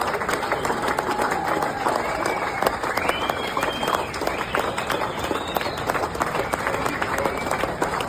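Clapping from a played-back recording of a veterans event, many scattered claps and crowd noise running steadily for several seconds with voices and cheering mixed in.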